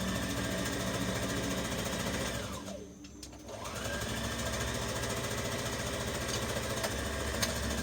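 A sewing machine stitches a tuck on a Butterick 5559 misses' dress, a steady close whirring hum that dips briefly in the middle before running on evenly.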